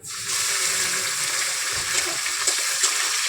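Chicken pieces fry in a pan with a steady, even sizzling hiss that begins abruptly and carries on at a moderate level, with no one talking.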